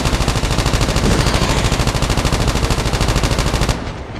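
Rapid automatic gunfire in the Call of Duty Mobile zombie game rattles loud and close in a steady stream of shots, then stops abruptly near the end, with no talk.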